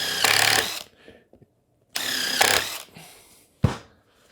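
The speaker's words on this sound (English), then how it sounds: "I'm just going to take my driver and put a screw hole" Power driver running in two long bursts while drilling screw holes into a curved-cabinet building jig, with a short third burst at the end; close and loud, quiet gaps between runs.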